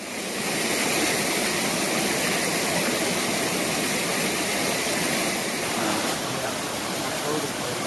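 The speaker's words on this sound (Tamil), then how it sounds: "ஆந்திரா பார்டர்லேருந்து இது பூண்டி டேமுக்கு இந்த தண்ணி வந்து கொண்டு இருக்குது." Flood water rushing from the Andhra border toward Poondi dam makes a loud, steady, broadband roar that holds unbroken throughout, close and powerful.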